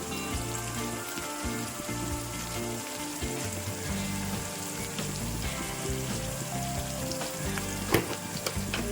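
Sliced onions fry with turmeric in hot oil, giving off a continuous loud sizzle with bubbling crackle and occasional clatter, under a steady musical backdrop.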